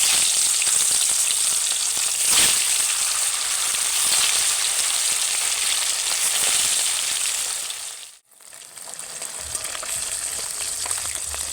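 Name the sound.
rui fish frying in oil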